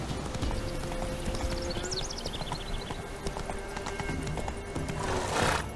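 A horse gallops in The Witcher 3 with steady, rhythmic hoofbeats close by, a whinny partway through and a burst of rushing noise near the end.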